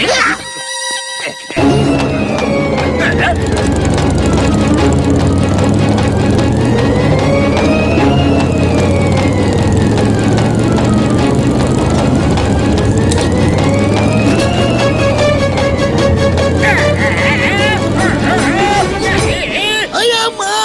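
A motorcycle ridden around a small pit, its engine revving loudly and continuously, the pitch rising and falling in repeated sweeps, with crowd chatter beneath.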